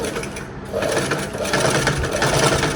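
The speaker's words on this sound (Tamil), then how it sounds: "இப்போ கை நம்ம தைக்குதோம்." Sewing machine running steadily, stitching a sleeve onto an Anarkali dress made from a sari; a continuous close mechanical whir at even loudness with no talking.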